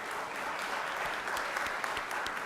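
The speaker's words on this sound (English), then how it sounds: "gave Miriam's family and friends a round of applause" Applause in a legislative chamber honoring a family seated in the gallery, a quiet, steady patter of many hands with a few sharper claps standing out.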